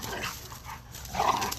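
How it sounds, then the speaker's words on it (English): Dogs at a dog park, a small dog and a big dog playing, with short soft barks and yips at mid distance, rising briefly toward the end, with no talking. "exactly what Coco does at the dog park with the big dogs"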